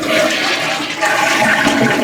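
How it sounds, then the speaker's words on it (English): A household toilet flushes after its tank lever has been replaced: loud, continuous rushing and gurgling water lasts about two seconds, captured close and with no voices. "it still flushes"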